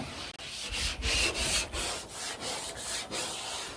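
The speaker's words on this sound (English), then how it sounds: "Why you sanding that with your left hand, Joe?" Rhythmic back-and-forth strokes of sandpaper rubbing on wood by hand, left-handed, about eight scratchy passes at a steady pace, close up with no talking.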